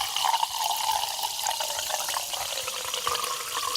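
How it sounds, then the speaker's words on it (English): Water poured from a branded merch cup for ASMR, a steady splashing trickle for a few seconds, close and alone with no talk. "I like to do a ASMR merch water pour"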